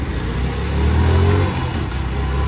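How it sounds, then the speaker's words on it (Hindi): A Suzuki Gixxer SF 150 motorcycle engine idles steadily close by, a low rumbling hum that swells briefly in the middle as it revs slightly, with no talking. "तो चलिए स्टार्ट कर लिए मैंने बाइक, वन टच स्टार्ट हो जाती है"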